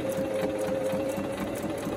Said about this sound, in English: put the foot down, and you're going to sew another row.